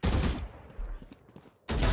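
Bursts of gunfire in an esports shooter tournament match crack out at the start, then a quieter stretch of scattered shots before another loud burst near the end, heard without commentary.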